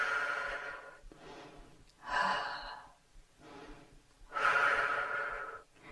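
Slow, deep breathing during an intermediate yoga session, with loud, close inhales and exhales alternating in long airy swells and quieter gaps, no talk over them.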